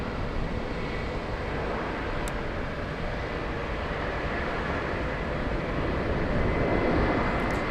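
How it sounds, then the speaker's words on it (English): Delta Airbus A340 airliner on arrival, a broad steady roar of jet engines held at an even, fairly loud level for several seconds, swelling slightly toward the end, with no voices. "Let's go for the next arrival, yeah? Delta A340."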